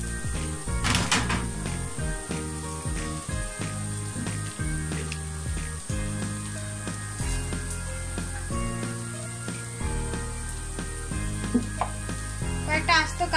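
Tomatoes go into a sizzling pan of catfish and potato curry (magur mach jhol), producing a steady hiss and frying crackle with scattered stirring clatter, over tonal background music.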